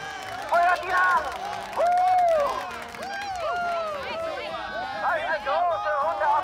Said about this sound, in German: Geben wir ihm einen Applaus!